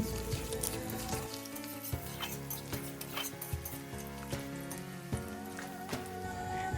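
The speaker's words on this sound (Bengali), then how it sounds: "আলুগুলো দিয়ে সুন্দর করে ভেজে নেব।" Steady sizzling of potatoes frying in a pan, with spatula scrapes and stirring clatters at irregular intervals, close up and fairly loud.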